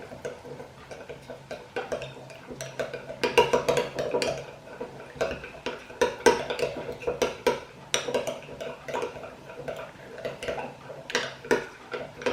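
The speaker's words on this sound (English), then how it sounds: "Just going to give that a bit of a stir." A spoon stirring lemon juice and tomato ketchup into burger sauce in a bowl: quiet, irregular clinks and taps of metal on dish, close by over a soft background, with no talking.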